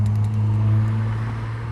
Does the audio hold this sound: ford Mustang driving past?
yes